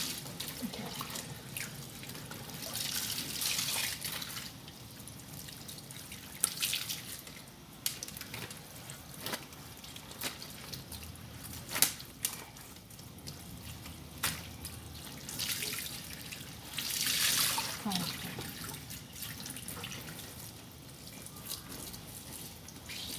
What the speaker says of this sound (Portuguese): com o tanque aberto, eu vou passar água por dentro da roupa